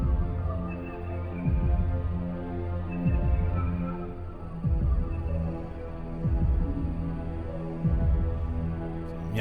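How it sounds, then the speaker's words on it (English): In the Legend of Dragoon video game, the Virage embryo gives a deep, slow, throbbing heartbeat, repeating in regular double pulses over a droning, eerie musical hum. "you can also hear the heartbeat of the Virage embryo"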